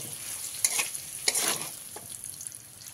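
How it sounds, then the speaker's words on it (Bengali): Potatoes fry in oil in a pan for a soybean dopeyaza, a steady sizzle broken by a few louder scraping stirs, close and alone with no talk. "আলুটা খুব ভালোভাবে ভাজা হয়ে গেছে।"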